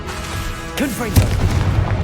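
Confringo blasting spell in Hogwarts Legacy: a deep, muffled boom bursts out over steady game ambience, with a voice shouting just before the blast.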